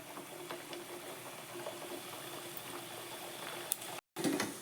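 Pieces of mathri dough fry in moderately hot oil, a steady close bubbling hiss that runs continuously before a brief cut.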